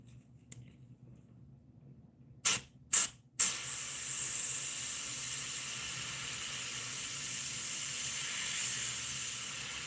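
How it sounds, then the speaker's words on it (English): Three short airbrush bursts hiss out in quick succession, then a continuous, fairly loud spray runs steadily as paint is applied to a fishing lure, heard alone without talk. "Trying to do it in a manner where it doesn't overspray."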